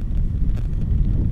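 Wind buffets the microphone on an open course during the final round of a golf tournament, a steady low rumbling roar with gusty swells that runs throughout, with no other sounds standing out.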